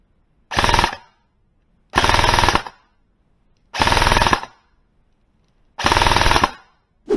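An E&L AK airsoft electric gun fires four separate full-auto bursts, each under a second long, sharp and loud with silent gaps between them, then a fifth burst begins.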